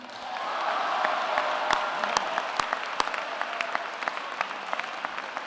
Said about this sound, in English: Let's give a big round of applause to this year's recipient of the Sophomore Award, Mr. Christian Smith